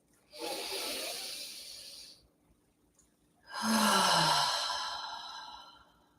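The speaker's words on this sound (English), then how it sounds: "let's take a collective breath" A group takes a slow, deep collective breath during a guided grounding practice, a soft airy inhale-like rush followed after a pause by a louder, longer exhale, with no talk.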